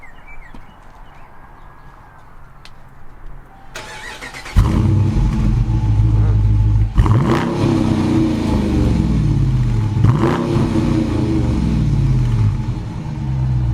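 A stock 5.7-liter V8 in a Dodge Challenger fires up from a quiet idle-off start and then revs hard in repeated loud surges, throaty and close, settling into a rumbling idle between blips.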